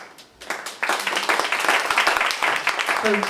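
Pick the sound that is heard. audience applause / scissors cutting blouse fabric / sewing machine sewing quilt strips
audience applause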